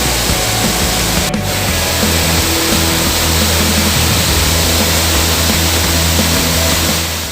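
Baruttung Gollae waterfall, the second tier, pours into a small pool among large rocks as a loud, steady broadband roar of rushing water, close and unbroken, with a brief sharp knock near the start.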